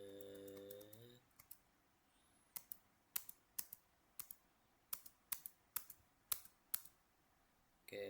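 Keys tapped on a computer keyboard while entering switch configuration commands in a network simulator, a series of about a dozen sharp, close clicks in an irregular rhythm after a short tone at the start, with no talking.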